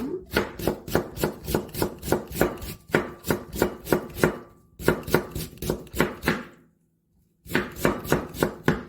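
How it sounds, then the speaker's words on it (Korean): A knife slices radish thinly on a cutting board in quick, rhythmic chops, close and crisp, with several bursts of steady strokes separated by short pauses. "이렇게 무를 이렇게 딱 펴놓고 썰으면"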